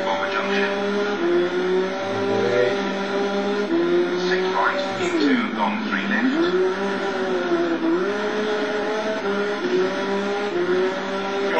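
A rally car in the WRC 4 video game roars with a rising and falling engine pitch through shifts and a dip as it slows, loud and continuous, with someone talking over it.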